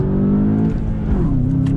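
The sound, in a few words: 2020 VW Jetta GLI accelerating in first gear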